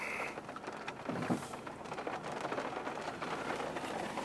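Heavy rain pours steadily onto surfaces outside near a car on International Drive, a dense continuous hiss with a brief louder swell, no voices.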